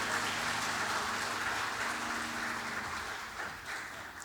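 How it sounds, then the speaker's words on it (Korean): Church congregation clapping for the choir at a Sunday worship service, a steady wash of applause that holds for several seconds and then fades as it thins out. "찬양해 준 우리 시온 찬양대를 위해서도 박수 한번 해주시겠습니다."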